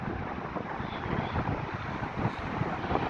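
Wind blowing hard by the sea at a beach on Bermuda with choppy waves, a steady broad roar buffeting the microphone throughout, with no voices.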